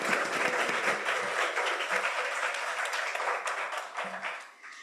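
A crowd applauding, dense steady clapping that gradually thins out toward the end.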